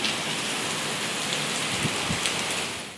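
Heavy monsoon rain pours down steadily, a dense, even hiss of drops striking surfaces close by, with a few low rumbles near the end and no talking.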